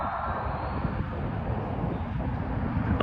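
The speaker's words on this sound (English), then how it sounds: "There's another plane coming." An airliner approaches the north runway at LAX, a broad, steady jet roar filling the air from a nearby parking lot, with wind and no voices.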